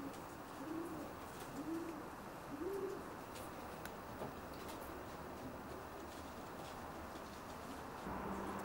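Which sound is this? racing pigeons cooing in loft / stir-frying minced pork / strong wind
racing pigeons cooing in loft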